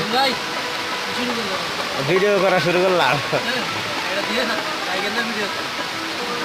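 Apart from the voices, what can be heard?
heavy rain at a village market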